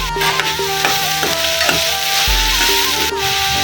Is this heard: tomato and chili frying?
yes